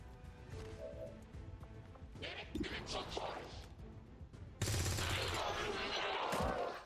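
Gunfire in the video game XCOM 2 Long War 2, with a brief crack midway and then a loud sustained burst of shots and impact noise, under and alongside someone talking.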